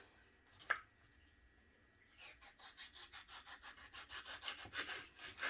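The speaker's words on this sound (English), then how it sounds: "I know how to cut tomatoes up" Knife slicing tomatoes into thin slices on a board, with a single sharp tap followed by a quick series of rhythmic, close-up cutting strokes that grow louder.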